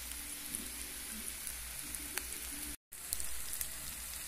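Garlic frying in a pan for sautéed potatoes, a steady close, quiet sizzle with scattered small pops and crackles.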